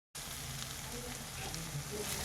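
Chili powder frying in hot oil for bitter gourd gojju, a continuous close sizzle and crackle with a steady, even texture.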